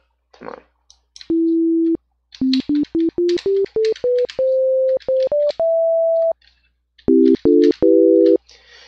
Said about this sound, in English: the sound wave is just going to be a straight sinusoidal wave